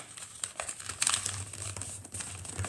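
Paper being folded and creased by hand to make a food box, close crinkling and rustling with a few sharper crackles, quiet and alone.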